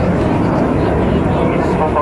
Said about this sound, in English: There's a lone jet. His smoke comes on.